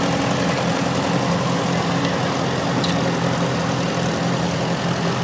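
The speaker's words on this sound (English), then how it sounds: "Up next is a McCormick Deering W6 1949, and this tractor has the same engine and transmission as the M Farmall" A 1949 McCormick Deering W6 tractor, sharing the Farmall M's engine and transmission, runs in a parade with a steady, loud, low engine rumble and no break in the sound.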